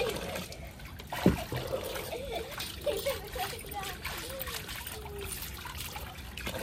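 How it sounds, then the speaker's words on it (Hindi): Running water splashes and trickles as a kadhai (wok) is washed in a rainy home setting, with a continuous wash of water under faint voices, including a child's, and one sharper clank. "धो रही है कढ़ाई"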